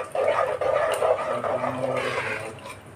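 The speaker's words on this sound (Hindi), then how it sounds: "ये थोड़ा सा और पानी ऐड कर दिया।" Water poured into a pot of rice being cooked with masala in a home kitchen, a steady splashing pour that runs close and fairly loud, tapering off toward the end.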